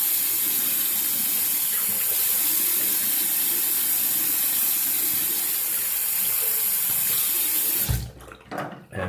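A tap runs steadily into a sink to rinse a Parker PTW shavette razor, a loud continuous gush that stops near the end, followed by brief splashing.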